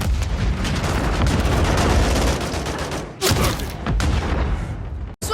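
Gunfire in a Call of Duty match: dense, continuous bursts of loud automatic fire with a couple of brief breaks.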